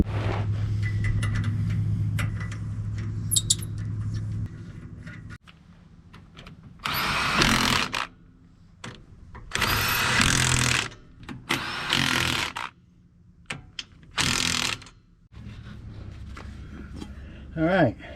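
A power tool torques down a heavy tire in several loud, separate bursts with short pauses between them. A voice talks over the engine-like rumble beforehand.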